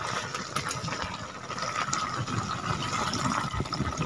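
Water being poured into a pot to make curry gravy for a broiler chicken dish in a village kitchen, a continuous splashing trickle close by over a faint background hum, with no talking.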